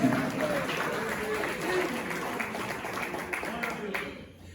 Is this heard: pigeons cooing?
no